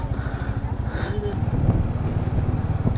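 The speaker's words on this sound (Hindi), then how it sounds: "हम ये बाइक चला रहे हैं हंटर" A Hunter motorcycle ridden downhill on a mountain road, its engine thrumming in a steady low pulsing beat, close and fairly loud throughout.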